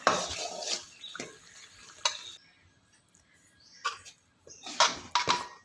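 A spoon scrapes and clinks against a metal pan while scooping thick puliyogare tamarind gojju paste, a few sharp taps and short scraping strokes separated by quiet pauses, close up and without talk.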